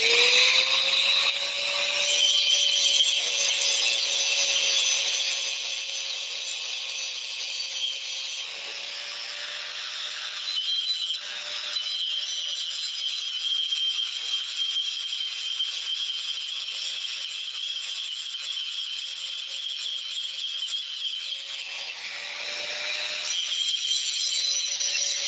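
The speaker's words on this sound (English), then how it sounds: "Turn on your die grinder." Die grinder running steadily on a metal pipe to smooth out a divot, a loud continuous high-pitched whine with slight pitch shifts as pressure changes, heard alone without talk.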